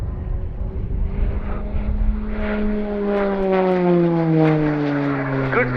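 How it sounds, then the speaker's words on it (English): A Slovenian Air Force PC-9M Hudournik turboprop with a single 950 shaft horsepower Pratt & Whitney Canada PT-6A engine performs aerobatics at an airshow, its steady propeller drone shifting in pitch as it passes, loud and continuous. "how powerful the single Pratt & Whitney Canada PT-6A turboprop of 950 shaft horsepower is"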